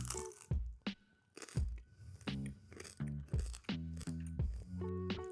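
A baked protein chip snack being bitten and chewed close up, giving repeated crunchy bites mixed with voiced, hummed murmurs between chews.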